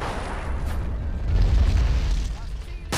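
A heavy explosion from a direct hit on an IS-3 tank in the Men of War war game, a deep rumbling boom that swells mid-way and fades, with a sharp burst near the end.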